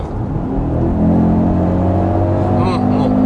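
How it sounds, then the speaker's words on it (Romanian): A car exhaust rumbles steadily at low revs, its engine drone swelling slightly and holding close and loud throughout, with voices talking over it. "acum se aude evacuarea"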